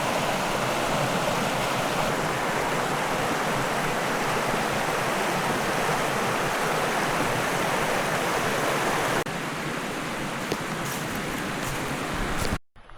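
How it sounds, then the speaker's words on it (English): Rapids on the Suwannee River rush in a steady, full wash of flowing water that softens partway through before cutting off abruptly at the end. "This is perfect just by these rapids that are absolutely incredible."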